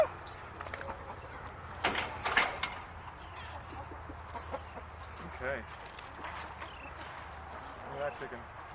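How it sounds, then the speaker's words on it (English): Chickens clucking outdoors in a garden, soft scattered calls around a sharper burst of sound, with people talking quietly nearby. "Look at that chicken. Got a worm over there."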